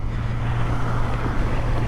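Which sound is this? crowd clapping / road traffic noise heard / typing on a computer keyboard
road traffic noise heard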